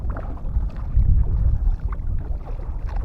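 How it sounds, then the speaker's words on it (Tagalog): Oars paddle a small unpowered fishing boat on open water while crab nets are hauled, giving low, uneven splashing and wind rumble, with no talk. "Kailangan magsagwan, wala tayong makina."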